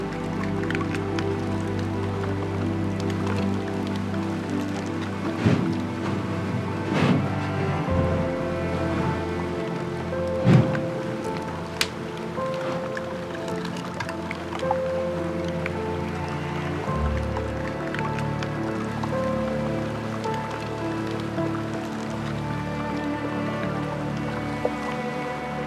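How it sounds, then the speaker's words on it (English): Melting glacier ice in Svalbard, its thousand-year-old air bubbles bursting at the surface in a continuous field of fine crackles and pops, with occasional sharper snaps over a steady watery wash. "crackling and popping noises from thousand-year-old air bubbles bursting as the ice melts at the"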